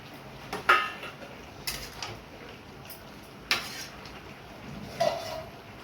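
A lid goes onto a cooking pot of katla fish curry with a handful of quiet, close metallic clinks spread out over several seconds.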